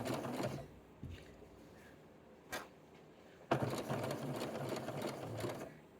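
A home sewing machine stitches a curved seam on a Simplicity 1446 pattern, running in bursts: a short run, a pause with small clicks, then a longer steady whir close by.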